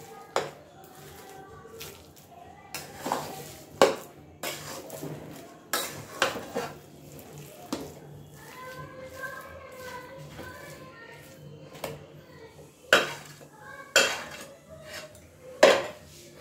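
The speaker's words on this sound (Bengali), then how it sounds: "নিচে মশলাটা আছে, সেটা উলট পালট করতে হয় ভালো করে, যাতে মশলাটা মিক্স হয়ে যায়" Metal spoon scraping and knocking around a pan while potato masala is stirred and turned over, with irregular clanks and scrapes, close and moderately loud, no talking.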